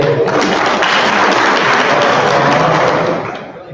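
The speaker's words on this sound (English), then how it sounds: "People out there that are applauding for Jesus." A crowd at an education summit in Huntsville breaks into loud, sustained applause, a thick continuous roar of many hands that stays level before easing off near the end.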